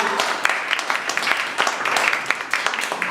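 An audience gathered at a community meeting gives scattered, uneven applause for arriving committee members, with distinct individual claps standing out and a few voices mixed in.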